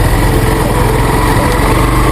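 Motorbike engine running steadily on a village road in the evening, a continuous loud close-up drone with rough low-end putter throughout, no talking.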